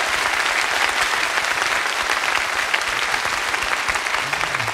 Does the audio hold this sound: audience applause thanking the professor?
yes